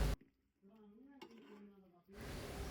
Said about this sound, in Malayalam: ഈ ഒരു സമയത്ത് നമ്മൾ വേവിച്ച് വെച്ചിട്ടുള്ള മട്ടന്റെ പീസസ് ഇട്ട് നന്നായിട്ടൊന്ന് ഇളക്കി കൊടുക്കുക